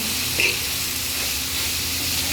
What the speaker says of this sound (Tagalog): lalagyan natin ang carrots at saka yung bagu beans. Ayan. Tapos haluhaluin natin